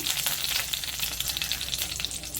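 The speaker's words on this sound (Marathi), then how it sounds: "कढई आपली तापली आहे चांगली कड़ी कढीपत्ता टाकला आहे" Curry leaves crackle and fry vigorously in hot oil in a wok, a dense, loud, continuous sizzle with rapid popping throughout and no voices.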